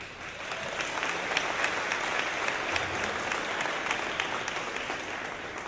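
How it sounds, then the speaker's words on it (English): Audience at a College Unbound graduation ceremony applauding a degree earner, a dense, even wash of many hands clapping that holds steady for several seconds at moderate distance. "a round of applause for Michael"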